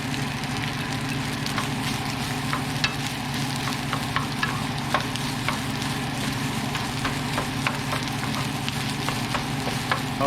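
Rice stir-fried for Thai shrimp fried rice, a continuous dense sizzle over a steady low burner roar, with light intermittent clicks and scrapes of a spatula in the pan.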